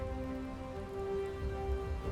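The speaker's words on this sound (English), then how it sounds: "it begins to rain" Steady rain falls near a manor in a fantasy setting, a continuous even hiss under a soft droning musical tone, with no distinct drops standing out.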